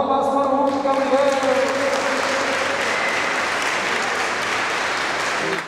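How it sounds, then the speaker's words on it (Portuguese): Applause from a church congregation after a baptism, dense and steady for the whole stretch, opening as tonal music fades underneath. "Palmas para o Hugo Gabriel"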